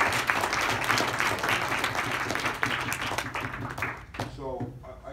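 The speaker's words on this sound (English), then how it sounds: "Give them a round of applause again" Audience applause at a school assembly, a dense sustained wash of many hands clapping in a large hall that fades toward the end as a voice begins speaking over it.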